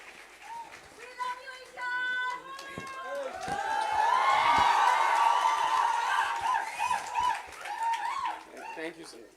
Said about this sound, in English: Big round of applause for sir.